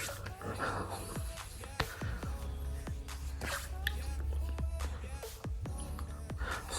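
Water is splashed close up to rinse cleanser off a face, with repeated wet slaps and drips over a low steady hum of running water.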